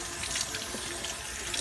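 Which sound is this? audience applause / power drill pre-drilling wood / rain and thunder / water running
water running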